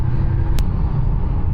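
A Porsche 911 drives past, a loud close low engine rumble sustained throughout with a brief sharp click near the start.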